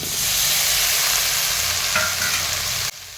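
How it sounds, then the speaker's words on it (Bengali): Washed vegetables being stir-fried in a pan with browned onion and softened tomato for a parshe fish curry, producing a loud, steady, close sizzle with light stirring scrapes that cuts off abruptly near the end. "সবজিগুলো দিয়ে আবারও 1 থেকে 2 মিনিট নাড়াচাড়া করে ভেজে নিব।"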